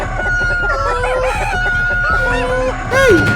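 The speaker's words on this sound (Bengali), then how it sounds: "হঠাৎ মুরগিরা জেগে ওঠে ডাইনিকে দেখে তারা ডাকতে শুরু করে" Cartoon chickens startled awake on a farm, squawking, clucking and crowing loudly and close, with overlapping calls throughout and a sharper rising squawk near the end.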